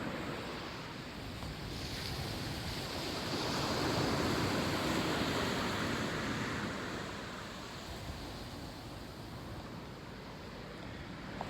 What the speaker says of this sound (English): I'm going to be sitting on the beach for a little while